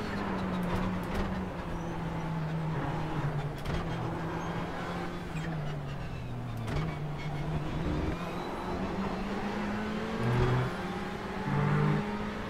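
A Ferrari 488 GTE race car engine drones and revs at Le Mans, its pitch climbing and dropping through repeated gear shifts over several seconds, with a few sharp blips and a brief rising rev near the end.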